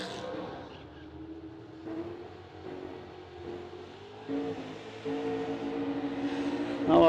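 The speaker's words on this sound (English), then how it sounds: "Big burnouts on both sides of the racetrack for Duncan and Minton." Drag race cars do burnouts on both sides of the track at a no-delay drag racing event, heard as a distant roaring engine drone that swells louder toward the end under an announcer's voice.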